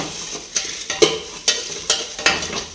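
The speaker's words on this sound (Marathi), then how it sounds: "चला कांदा जाळायला लागला" Onions frying in a pan on a gas stove, with a steady sizzle broken by regular scraping strokes of a spatula about every half second, close and moderately loud, no voices.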